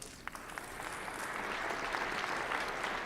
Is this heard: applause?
yes